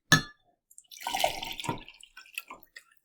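Very hot, steaming water is poured from one vessel into a larger container, starting with a sharp clink, then a steady splashing pour with a few drips and light glassy knocks at the end. No one speaks.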